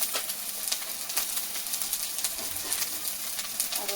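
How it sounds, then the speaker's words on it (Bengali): Tomato paste with turmeric and red chili powder frying in oil in a pan, a steady close sizzle with faint stirring scrapes and no talking. "এটা দিয়ে ভালো করে একটু ভেজে নেব, লাল লাল করে যতক্ষণ তেল না উঠবে ততক্ষণ ভেজে নেব"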